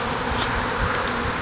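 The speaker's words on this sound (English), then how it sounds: "That's a lot of bees." A swarm of bees around a hive, a loud, dense, continuous buzz with the insects very close by, unbroken and with no talk.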